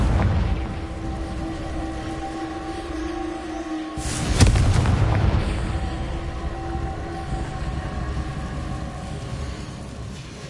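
A Confringo blasting spell goes off in Hogwarts Legacy, with a sudden broad boom at mid-clip that rumbles away over a steady game-music and ambience bed.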